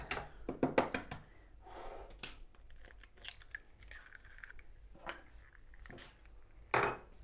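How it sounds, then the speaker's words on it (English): A single egg cracked against a bowl's edge while making Dukan pumpkin fritters, with sharp close taps, a brief crunch of shell and soft kitchen clatter, quiet and sparse. "Just going to crack 1 egg here."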